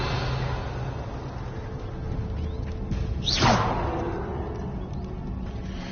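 The Revelio spell in Hogwarts Legacy is cast as a single sweeping whoosh that rises and falls over a few seconds above a low, steady ambient hum, with no talk.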